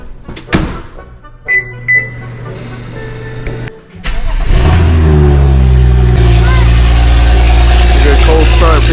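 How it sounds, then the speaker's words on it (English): A BMW F30 335i with the N55 engine is cold started: a few clicks and dash chimes come first, then the starter catches and the engine fires into a loud, close idle that rises and settles, with occasional voices. "Good cold start, people."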